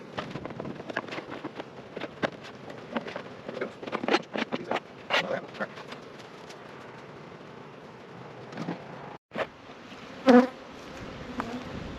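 Honeybees buzz thickly around an opened hive during a cold spring split, a dense close swarm hum with individual bees zipping past the microphone and a few knocks and handling sounds.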